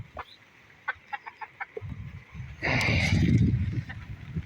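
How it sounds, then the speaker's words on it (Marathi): A desi village rooster clucks in short repeated bursts, then gives a louder, longer flurry of squawking and flapping, close by at a farm. "देसी गावठी कोंबडा."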